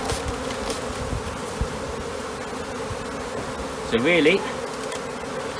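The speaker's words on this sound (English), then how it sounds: "I just wanted to make sure these bees don't get squashed." A low, continuous hum of honeybees from a captured swarm in a modular hive drones on steadily nearby; someone speaks briefly partway through over the buzzing.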